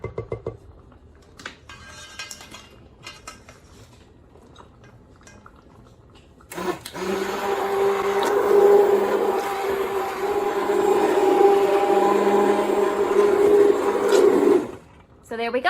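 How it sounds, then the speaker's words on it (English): An immersion blender whirs steadily, blending pears in a pot for several seconds after some quiet clinking, then cuts off briefly near the end. "I like using the immersion blender because I can just leave everything in the pot."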